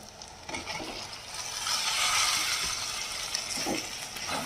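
Boiled potatoes being fried and stirred into a spice masala in a pan, a steady close sizzle with intermittent scraping strokes of a spoon, no talking.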